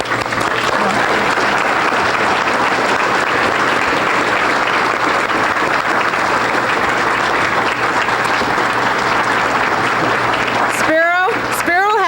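Applause for an honoree at a Cupertino Chamber of Commerce awards banquet, a sustained dense clapping from a large indoor crowd, loud and even throughout, fading out at the end into a brief voice.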